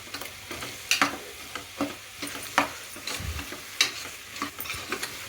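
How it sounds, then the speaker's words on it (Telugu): Masala paste for an aloo peas kurma fries in a pan while being stirred, giving a low sizzle under repeated scraping strokes of a spoon at an uneven, busy rhythm, close and clear. "ఒక నిమిషం పాటు బాగా ఫ్రై చేసేసుకున్నాము"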